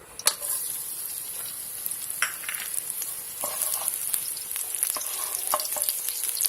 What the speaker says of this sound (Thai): เฮ็ดไฟปานกลางพี่น้องพัดให้มันหอมๆแล้วเนาะกระเทียม